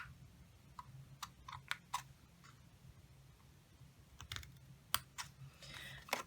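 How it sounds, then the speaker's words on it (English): Scissors snip through scored card stock in a series of short, sharp, quiet clicks, irregularly spaced and close up, with a few quick cuts bunched together near the end. "all you've got to do is just snip at those score lines"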